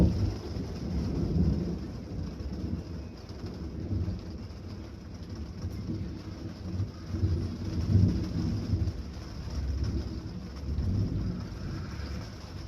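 A thunderstorm rumbles outside a parked van at night in the Dordogne, low thunder swelling and fading in long rolls over steady rain, moderately loud and with no voices.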